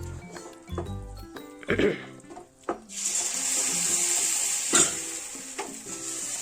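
Starchy potato cooking water is poured into a hot pan of potato capsicum masala, setting off a loud, steady hiss and sizzle that follows a few clattering stirs of a spoon against the pan.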